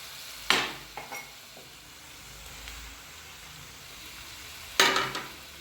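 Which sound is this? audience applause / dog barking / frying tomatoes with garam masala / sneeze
frying tomatoes with garam masala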